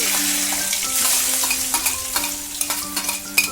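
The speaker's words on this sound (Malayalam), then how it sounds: "നമ്മൾ വെളിച്ചെണ്ണ ചൂടായിട്ടുണ്ട്. ഇതിലേക്ക് നമുക്ക് 1 ടീസ്പൂൺ കടുക് ഇട്ട് കൊടുക്കാം." Mustard seeds, chopped shallots and garlic fry in hot coconut oil, giving a steady close sizzle with light popping and stirring scrapes that grow a little more clicky toward the end, with no voices.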